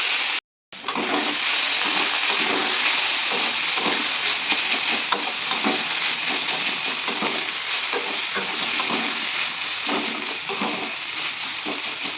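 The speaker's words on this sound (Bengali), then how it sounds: "এটাকে ভাজার পর তার মধ্যে আমি দিয়ে দেবো এই যে তরুলিটা" Steady, loud sizzling of onions and pointed gourd frying in a pan, with occasional stirring scrapes, continuous throughout after a brief silent gap at the start.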